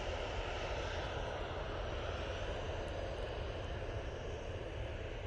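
Ryanair jet airliner taxiing at Manchester Airport, heading out toward Malaga: a steady, broad engine roar and whine that holds at even loudness throughout, with no voices over it.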